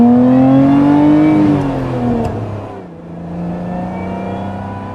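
A supercharged Lotus Emira engine revs up loudly with a rising whine riding over the exhaust note, eases off midway, then holds a steady, slightly lower drone close by.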